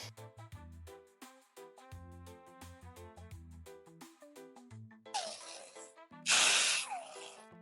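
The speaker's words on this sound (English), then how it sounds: "Give the outer surface final wipe with some brake cleaner." Brake cleaner aerosol sprayed onto an engine part of a Ford Transit during a wet timing belt repair, two loud hissing bursts near the end following quieter clicks and clunks of work.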